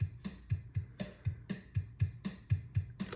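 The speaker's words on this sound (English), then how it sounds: "if you want it like the opposite, complex yet soft, the drummer will sound like this." Soft, intricate drum pattern from Logic Pro's virtual drummer, with gentle kick and snare hits repeating in a steady groove and light cymbal or hi-hat texture throughout, no other sounds.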